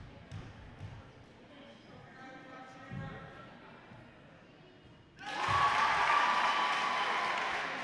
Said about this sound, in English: Finally, the crowd has something to cheer for.